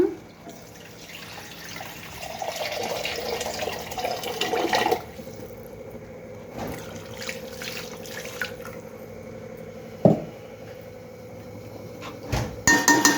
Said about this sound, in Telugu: ఇందాక మిక్సీ వేసి పెట్టుకున్న జార్లో కాస్త నీళ్ళు పోసాను, అవి కూడా పోస్తున్నా.